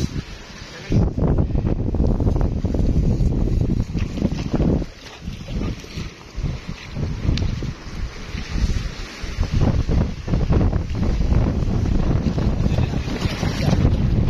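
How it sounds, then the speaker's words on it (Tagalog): Strong wind roars and buffets the microphone nonstop, with a deep rumble underneath that sounds like a boat out on open water. "Malakas po ang hangin, sir."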